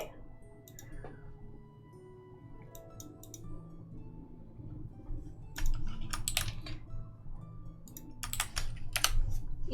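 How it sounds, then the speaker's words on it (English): Typing on a computer keyboard during a game stream, bursts of close clicky keystrokes that grow busier toward the end, over a low background hum with faint speech. "You guys get a tiny bit of typing ASMR today if you truly want it."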